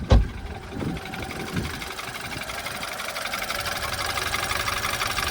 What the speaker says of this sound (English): The engine doesn't sound very healthy, but all these 4-cylinder engines, they sound like that.